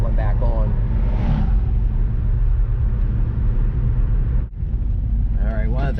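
A 1971 Pontiac Ventura engine with new headers and exhaust runs with a steady low rumble and a slight stumble, loud and close, with a brief dip near the end.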